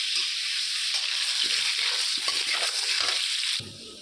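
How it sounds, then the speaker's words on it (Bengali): Potato pieces fry in hot oil, giving a loud, dense and steady sizzle up close that cuts down sharply near the end; no voices. "একটু আলু ভেজে নিচ্ছি"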